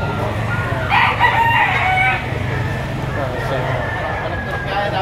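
Roosters crowing at a busy poultry market behind a mall in Lipa City, Batangas, with a loud crow near the start rising over steady crowd noise and background chatter.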